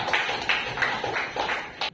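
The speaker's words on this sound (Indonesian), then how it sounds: "Tepuk tangan coba Zakia" Children in a classroom clap together for a classmate, a short burst of rhythmic, fairly close handclaps in about six beats.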